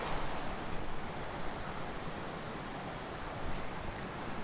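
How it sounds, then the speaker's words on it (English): A fast river rushing beside a campsite, a dense, unbroken broadband roar that stays close and fairly loud, steady from start to finish with no voices over it. "there's a raging river running right next to me"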